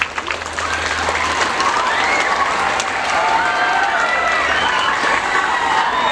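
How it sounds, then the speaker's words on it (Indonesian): Applause and crowd noise at a Monday school ceremony and anti-bullying declaration, a dense, loud spread of clapping with cheering and children's shouts throughout. "Ya, tepuk tangan buat semua."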